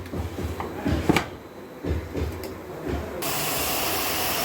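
A closed pressure cooker of country-chicken biryani starts releasing steam, first a few soft puffs and clunks, then a steady loud hiss that sets in abruptly and continues close by.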